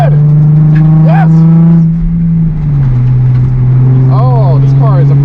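A race car's engine drones loud and steady from inside the cockpit, its pitch sagging once mid-run before holding again, while someone talks excitedly over it.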